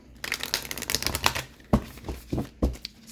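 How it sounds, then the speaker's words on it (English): Angels and Ancestors oracle cards by Kyle Gray being shuffled by hand, a run of quick crisp riffling clicks for about a second and a half, then a few separate louder flicks and taps, close by with no talking. "Give it one more shuffle, even though I shuffle these cards off camera."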